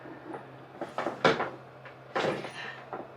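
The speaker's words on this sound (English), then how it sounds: "No, that was knocking." A few sharp knocks land at irregular moments against a quiet room, some single and some in quick pairs, fairly close and moderately loud.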